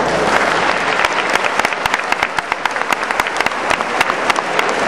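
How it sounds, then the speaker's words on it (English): An audience at a 2008 Dillard High School graduation claps steadily, a dense, even burst of applause with a few sharper individual claps standing out, lasting several seconds without talk. "That does deserve a round of applause."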